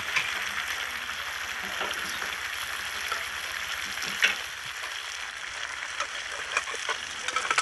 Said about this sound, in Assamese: এতিয়া মই আলু আৰু বিলাহীকেইটা ধুনীয়াকৈ ফ্ৰাই কৰি লওঁ